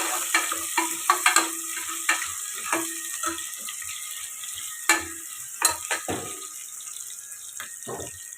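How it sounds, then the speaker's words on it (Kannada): Curry leaves fry in a little oil for a mung bean sprout sambar, a steady hiss broken by sharp stirring clinks and scrapes of a spoon against the pan, close and moderately loud with no talking. "ಇದಕ್ಕೆ ಕರ್ಬೇವಿನ ಸೊಪ್ಪು ಹಾಕಿ ಮತ್ತು ಸ್ವಲ್ಪ ಎಣ್ಣೆಲಿ ಡ್ರೈ ಆಗಲಿ"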